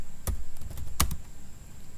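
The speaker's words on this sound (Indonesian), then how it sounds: "Dan kita ketik lagi IP address." Two distinct keystrokes on a laptop keyboard while an IP address is entered, sharp clicks spaced about three-quarters of a second apart, close and clear over a faint steady hum.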